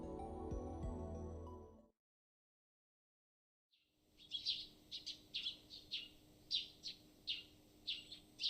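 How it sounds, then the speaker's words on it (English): Small birds tweet outside a window in the cool early morning, a series of bright, quick chirps repeating irregularly at moderate distance, starting after a short silence and heard alone. "I hear the tweeting of small birds outside the window."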